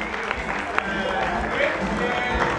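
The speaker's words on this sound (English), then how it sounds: "Give up all your applause to Kat." Audience applause for a contestant named Kat, a steady wash of clapping at moderate volume with talk over it.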